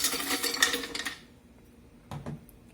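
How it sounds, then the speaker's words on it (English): Ice and sugar tipped into the jar of a tea shop blender: a rattling, clinking clatter of ice for about a second, then quiet, then a brief softer clunk. "add your ice and sugar"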